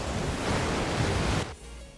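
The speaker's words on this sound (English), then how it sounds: "That's an ocean." Ocean surf washing steadily in the Forza Horizon 4 racing game, a broad, loud rushing wash that drops away abruptly near the end.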